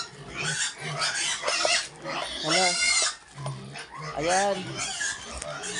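A large pig on a pig farm grunts in short, rough bursts close to the microphone, with a person talking over and between the calls.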